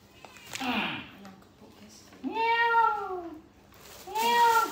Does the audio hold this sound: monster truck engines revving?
no